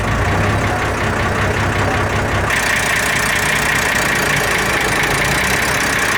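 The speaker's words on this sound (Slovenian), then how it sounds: "Motor, ki zmore 90 konjskih moči, ima predkomore, zato ga je treba pred vžigom pogreti." A Mercedes-Benz 3500 L bus with a 90-horsepower pre-chamber diesel engine runs with a loud, rough, knocking clatter, steady and close throughout.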